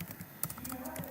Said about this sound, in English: if I type my full name